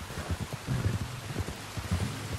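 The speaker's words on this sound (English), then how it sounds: "You were right about the damn rain." Rain falls in the video game Red Dead Redemption 2 as a soft, steady patter, with faint low rumbling thumps underneath, quiet and continuous throughout.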